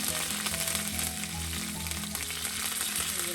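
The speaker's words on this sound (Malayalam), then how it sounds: "പൊട്ടിക്കഴിഞ്ഞപ്പോൾ നമുക്ക് 2 ഉണക്കമുളക് ചേർക്കാം" Mustard seeds and two dried red chillies fry in hot coconut oil, giving a steady, soft sizzle with faint crackles and no voices.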